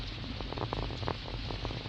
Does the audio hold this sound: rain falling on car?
yes